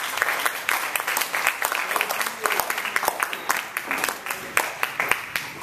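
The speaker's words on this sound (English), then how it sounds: "So can we have just a little round of applause for them?" A round of applause for guest visitors from a high school audience, a dense steady patter of many hands clapping at close range for several seconds, with individual sharp claps standing out over the crowd.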